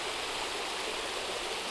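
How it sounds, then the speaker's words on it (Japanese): Water pours steadily down the Yamayuri waterfall in a constant, full rushing roar with no pauses or voices, close and even throughout. "山百合の滝"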